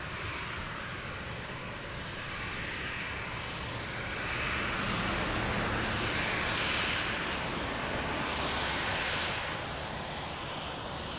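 Airplane engines at Lisbon Airport give a continuous broad roar that swells louder midway and eases slightly toward the end, heard alone without talk.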